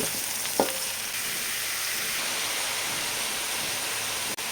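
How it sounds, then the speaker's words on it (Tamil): Mushrooms and capsicum stir-frying in a pan give a steady, loud sizzle throughout, with one brief clack of a utensil early on and no talking. "மஷ்ரூம் சேர்த்து நல்லா மிக்ஸ் பண்ணி விடலாம்"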